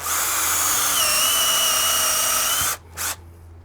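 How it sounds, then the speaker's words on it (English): A power drill bores a hole into a log for growing shiitake, a loud, steady high whine held for over two seconds, then stopping with a brief second burst. "drill your hole, and then space your holes about 6 inches apart"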